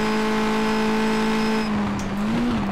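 Race car engine from the World Racing Series racing sim, a loud steady high-revving whine that holds pitch, then cuts off sharply and rises again briefly as the car shifts or brakes into a corner.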